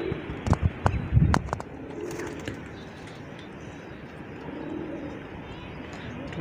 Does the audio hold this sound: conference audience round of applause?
no